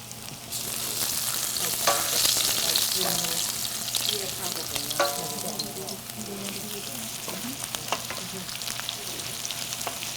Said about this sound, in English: So this is sizzling here, my cumin seeds, and now I'm going to add my ginger strips to it.